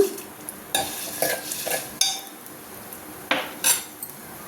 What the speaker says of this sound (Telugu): ఈ పచ్చి పులుసుని ఈ తాలింపులో యాడ్ చేద్దాము మంచిగా తాలింపు వేగిపోయింది